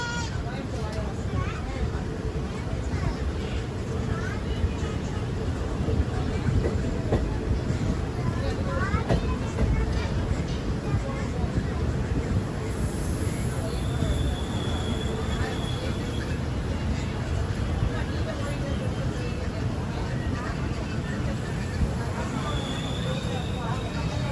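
An Indian Railways express train pulling out and rolling along, a continuous loud low rumble and rattle heard from inside, steady throughout with faint squeals and clanks layered over the din.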